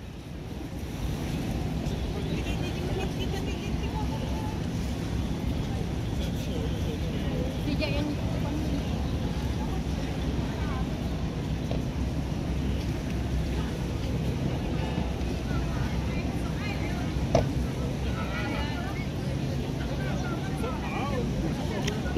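Star Ferry boat pulling away from the pier in Hong Kong harbour, a steady low engine rumble blended with water wash and wind buffeting the microphone, continuous throughout, with talk faintly mixed in.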